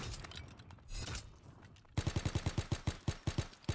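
Video game gunfire, starting with a few scattered shots and muffled bursts, then a fast run of about fifteen sharp, evenly spaced automatic rounds, loud and close, with no voices.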